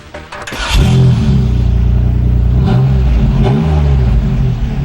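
A V6 hot rod engine rises sharply into a loud, close rev, then holds a steady throaty drone with a couple of brief throttle blips, heard alone without talk.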